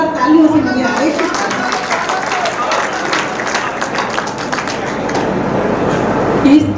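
An audience at a Hindi poetry recital (kavi sammelan) breaks into a sustained round of clapping that stays thick and even, with some voices blending into it.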